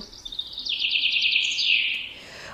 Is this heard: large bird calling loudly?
yes